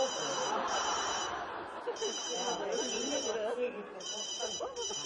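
A mobile phone ringtone plays an electronic melody in repeating bursts, while people talk over it close by.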